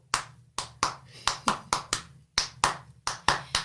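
Sharp, close hand claps ring out one at a time in a steady, slightly uneven rhythm, about a dozen in all, each with a short decay and quiet gaps between, with no other sound competing.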